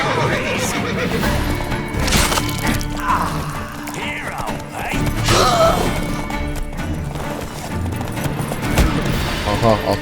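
Horses whinny and charge amid a chaotic clash in The Witcher 3: Wild Hunt, with loud neighs, pounding hooves, crashes and mechanical clatter layered densely; shouting voices mix in throughout.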